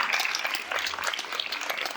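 Audience applause at an induction event in Berlin: a dense, steady patter of many hands clapping together, filling the room at an even level for the whole stretch.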